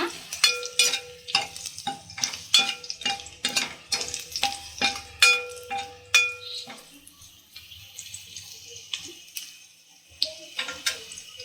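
Garlic frying and stirred in a hot pan for palak dal, a rapid run of sharp spoon-scraping clicks over soft sizzle, then quieter sizzling with a few later scrapes.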